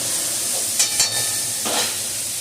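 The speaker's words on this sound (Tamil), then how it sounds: "ஒரு 2 நிமிஷம் வெங்காயம் கொஞ்சம் நல்லா வதங்கட்டும்" Onions sautéing in a pan for katrikkai thokku, a steady broadband sizzle with a few soft scrapes of stirring, close and even throughout.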